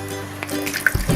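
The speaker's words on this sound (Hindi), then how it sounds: "थोड़ा सा पानी डाल के लगभग 2 चम्मच के करीब टमाटर में डाल दूँ।" Water poured from a jar into tomatoes in a pan sizzles and splashes briefly, with a few soft drips and gurgles close by.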